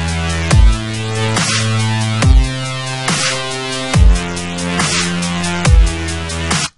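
A synthesized dubstep drum beat loops at a slow half-time pace, with deep booming kicks and a sharp accented snare repeating steadily, loud and alone.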